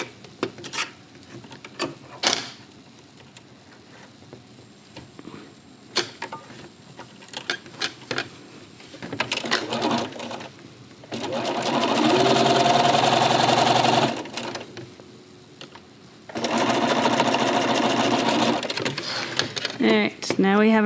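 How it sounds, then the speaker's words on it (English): Sewing machine stitching the two ends of a quilt binding together, running in two long loud bursts of steady motor drone separated by quieter handling and fabric rustle, with a few short starts earlier. "You just align the two pieces and just sew them together."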